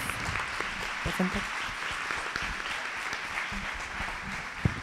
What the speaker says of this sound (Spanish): despedimos con un fuerte aplauso a los disertantes